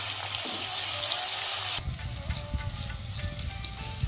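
Capsicum, onions and green chilies fry in a pan with salt and black pepper, a continuous close sizzle that shifts in texture partway through, with no talking.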